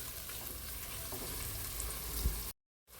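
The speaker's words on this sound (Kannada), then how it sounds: "ಹೈ ಫ್ಲೇಮಲ್ಲಿಟ್ಟು ಫ್ರೈ ಮಾಡಿ." Masala for a fish curry (boothai, sardine) frying on high flame, giving a steady close sizzle with faint stirring scrapes, then a brief cut to silence near the end.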